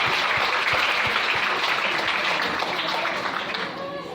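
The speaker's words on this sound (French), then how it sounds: "Est-ce qu'on peut acclamer le Seigneur?" A church congregation applauds to acclaim the Lord during a Sunday service, with a dense, loud wash of clapping and cheering that holds steady throughout and fades slightly at the end.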